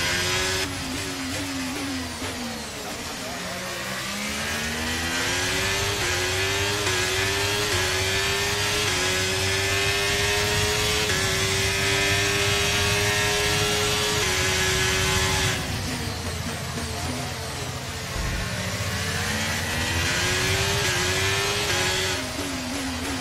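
An F1 race car in the F1 23 video game, at the Azerbaijan round, accelerates hard out of a pit stop. The engine is loud and close, its whine climbing steadily through the gears with brief dips at each upshift, and no talk.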